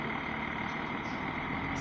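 A concrete mixer truck drives off a residential building construction site, its engine a low steady rumble at moderate distance with no talk over it.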